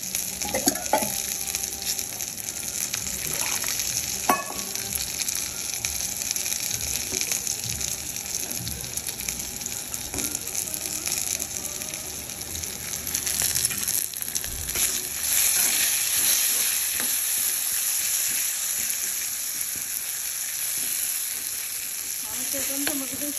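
Chopped raw mango and onion sizzle and fry steadily in a hot pan, with occasional stirring scrapes, a continuous close sizzle with no talking.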